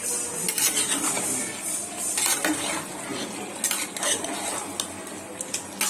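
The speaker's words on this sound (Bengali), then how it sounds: "কড়াইতে কষিয়ে নিয়েছি" Metal clattering and scraping as chicken curry with potatoes is stirred and sautéed in a wok, steady and close, with rapid irregular clinks of a spoon against the pan over a low sizzle.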